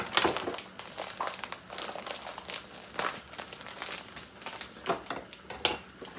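Plastic packaging of fufu being opened and handled in a home kitchen while palm oil okra soup cooks, giving close, irregular crinkling and rustling with a few soft clinks of dishes.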